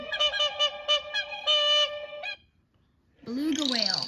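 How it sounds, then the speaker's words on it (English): A whooper swan gives a run of loud, close, bugling honks in quick succession for about two seconds, then falls silent before another drawn-out, wavering call rises. "Whooper swan."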